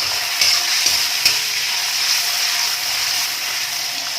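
Long carrot strips sizzle and fry in hot oil for a soya chunk chowmein while a spatula stirs and scrapes them, a steady close hiss with a few sharp scraping clicks and no talk.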